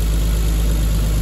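A Toyota Supra engine idles just after startup with a new CT oil-less turbocharger fitted, a loud, steady close-up drone with a constant low rumble and no voices.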